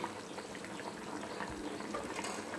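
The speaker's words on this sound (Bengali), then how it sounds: "পটল আলু মাছের ঝোলটা ফুটছে।" A curry of pointed gourd, potato and fish simmers in a pot, a soft, steady bubbling with faint liquid pops throughout.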